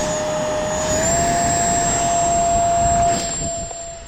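A 4S Dolphin jet trainer model from Value Hobby spools up for takeoff. A loud, close whine rises in pitch, then holds steady over a rushing roar before easing off at the end.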